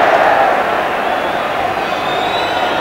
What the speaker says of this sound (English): Every clearance being applauded.